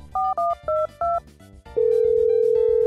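A telephone sound effect: four short, loud touch-tone beeps in quick succession, then a steady unbroken dial tone that holds to the end, with no talk.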